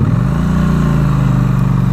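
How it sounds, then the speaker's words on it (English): A 2017 Triumph Bonneville T100 motorcycle engine producing a low, steady burble while riding in traffic, a continuous deep rumble, moderately loud and close without speech. "it's got a very low burble. It's not very loud, the engine."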